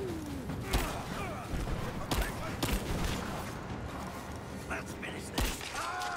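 Video game gunfire from Rise of the Tomb Raider, a handful of sharp isolated shots spaced irregularly over a busy background of game ambience and faint clatter, moderately loud.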